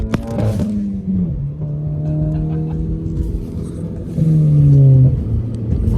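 A car accelerates hard nearby, its engine note rising, dropping at a gear change and climbing again into third gear, loud and steady with no talking.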